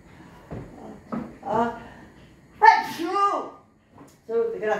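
A single sneeze rings out in a home kitchen during cooking, set among quiet talk, with a few brief voiced sounds around it.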